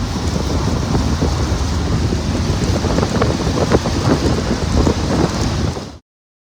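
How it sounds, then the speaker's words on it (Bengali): Heavy rain pours down outside in Mumbai, a dense steady roar with gusty wind buffeting the microphone, continuous and loud until it cuts off abruptly. "আর তখন বাইরে প্রচুর বৃষ্টি পড়ছে।"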